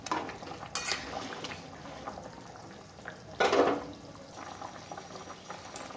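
Fish head curry with papaya and potato in a pot: a quiet simmering bubble with a couple of sharp metal clinks and a louder splashy scrape of a utensil midway, faint and close.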